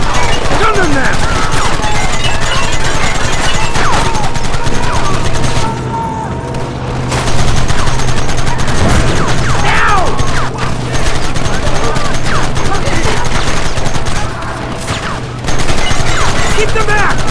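Dense gunfire rattles almost without pause in Red Dead Redemption, loud and close rapid shots with brief lulls, while voices shout over the shooting.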